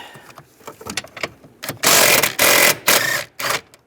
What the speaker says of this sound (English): Now I'm going to use a 15mm socket.